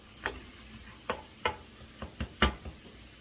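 Chopped onion cooks in melted butter in a pan for crab cakes, with sharp stirring clicks and scrapes of a utensil against the pan at an uneven rhythm over a low sizzle, close and alone.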